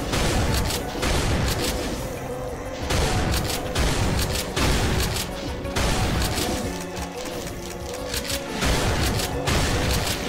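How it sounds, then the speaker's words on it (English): Rapid shotgun blasts and explosive booms fired at imps in the shooter Brutal Doom, a dense, loud barrage of repeated bursts with brief gaps over about ten seconds, alone without talk. "Let's shotgun these imps."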